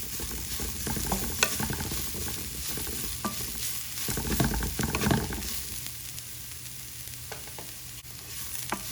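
Green and dried red chillies fry in hot oil for oats upma, a continuous sizzle with occasional soft stirring scrapes and small pops, close and moderately loud with no talking.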